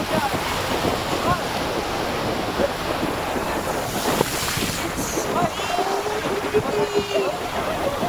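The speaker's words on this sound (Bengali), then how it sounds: "তো এখান থেকে জল চলে আসছে" Sea waves wash in at Digha Mohona beach, a steady rushing surf with wind buffeting the microphone, loud and close, with a person talking over it.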